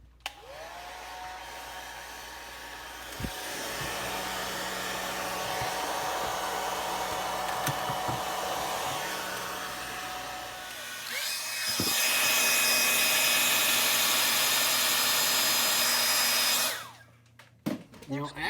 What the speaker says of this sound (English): I'm gonna hair dry him.